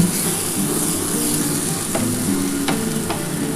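Coriander leaves go into a pan of spice mixture frying for mulo paturi, giving a steady, close sizzle with a few light clicks of stirring.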